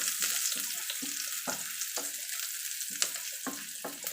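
Chopped onions sizzling in a hot pan for shrimp, a soft steady hiss broken by a few stirring scrapes, quiet and close with no talking.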